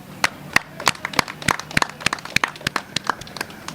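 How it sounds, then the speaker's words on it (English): Sharp, separate claps at a steady, moderately quick pace from a small group welcoming community ambulances at a Ministry of Health handover, fairly close and without the dense wash of a large crowd. "He needs a big round of applause."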